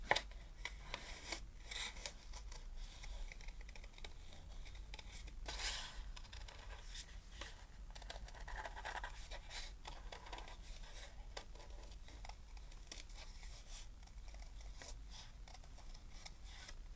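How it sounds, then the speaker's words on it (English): Scissors cut through card stock during card-making as the card is turned against the blades, giving a steady run of close, dry scraping and snipping strokes that continue throughout without pause. "move the card around your scissors"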